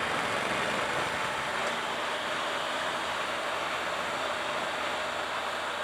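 Steady broadband roar from a 2018 Triumph Tiger 1200 XCa motorcycle being ridden, engine and wind noise blending into a continuous, even rush with no pauses or talk.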